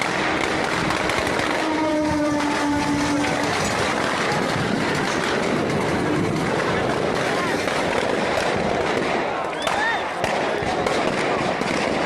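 A train rolls through a crowd at a religious festival in Amritsar, Punjab, with dense continuous noise of rolling wagons, a brief horn-like tone early on and crowd voices throughout.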